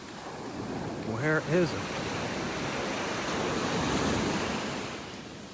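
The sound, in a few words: big ocean waves pounding on the beach, North Naples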